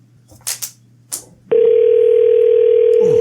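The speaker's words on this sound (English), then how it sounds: "Oh, God, that's a loud ring." A telephone call-back ring bursts in loud and steady after a few brief clicks and taps, holding a continuous harsh tone to the end.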